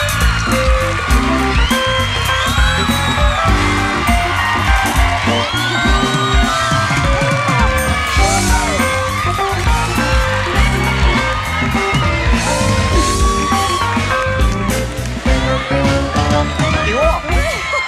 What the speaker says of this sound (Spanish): el aplauso a Gracie Rendón